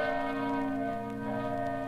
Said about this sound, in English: As the bell of the Congregational Church in Plymouth, Vermont, tolls the hour